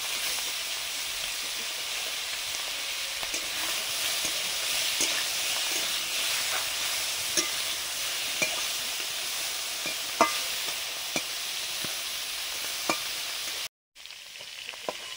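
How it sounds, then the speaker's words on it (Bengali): Big prawns frying in a pan for a taro curry, a steady loud sizzle with scattered pops and crackles and a brief dropout near the end. "বড় বড় চিংড়ি মাছ কচুর ঝালের জন্য ভেজে নিচ্ছি।"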